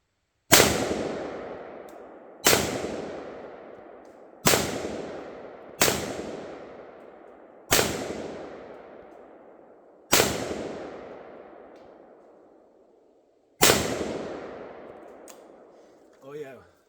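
Pioneer Arms Sporter AK-47 rifle fired at a target outdoors: seven loud, sharp shots spaced irregularly, each with a long decaying echo, and a brief faint voice at the very end.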